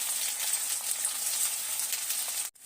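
Eggs frying with chopped ivy gourd in a pan, a steady close hiss and crackle of sizzling oil with faint stirring scrapes, continuous until it cuts off abruptly near the end.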